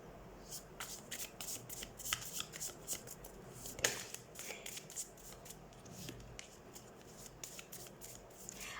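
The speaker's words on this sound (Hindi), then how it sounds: "सबसे पहले हम कार्ड शफल कर लेते हैं।" Tarot cards riffle and slap together in quick, irregular bursts of crisp shuffling, fairly close and soft, continuing throughout with slight pauses.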